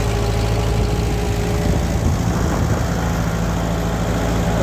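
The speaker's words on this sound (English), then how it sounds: "I love driving this old tractor" A 1948 Ford 8N tractor engine idling, a steady low, rumbling drone with an even mechanical chug, close and loud throughout with no voices.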